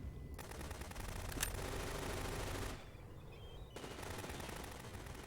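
A long, rapid burst of automatic gunfire from Metal Gear Solid 2 sprays many bullets, stops for about a second, then starts again at a slightly lower level.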